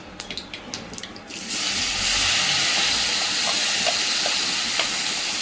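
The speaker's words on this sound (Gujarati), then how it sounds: "જીરાનો વઘાર કરીશું" A few light clinks, then a sudden loud sizzle as cumin seeds hit hot oil, settling into a steady crackling hiss close by.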